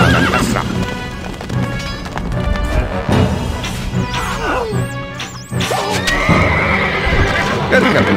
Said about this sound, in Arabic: اركب مثل الريح الفرس تعدو